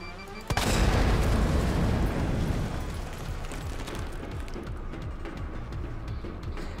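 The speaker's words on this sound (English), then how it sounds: "I like how you can tell they clearly tried to time the music with the explosion there" A loud, booming explosion in the video game Resident Evil 2 Ghost Survivors, a sudden blast followed by a long rumbling roar and crackling debris under game music.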